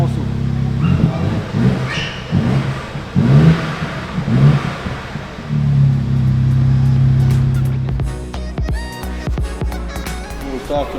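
A car's exhaust valve opens and the engine revs in several rising bursts, followed by a steadier low drone, close by, with people talking over and between the revs.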